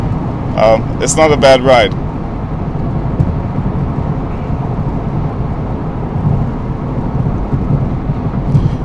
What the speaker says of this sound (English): you can hear some of the undulations on the freeway coming through the cabin